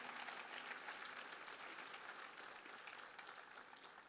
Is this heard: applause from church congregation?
yes